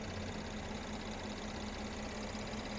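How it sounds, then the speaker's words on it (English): 2015 Mercedes-Benz E350 4Matic Sport engine idling, a faint, steady, even hum with a low tonal drone and no change in pace. "we'll really see how smooth this engine runs."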